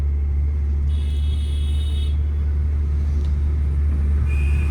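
A car drives slowly during a beginner's driving lesson, its engine and road rumble steady and low inside the cabin, with a couple of faint high electronic tones in the background.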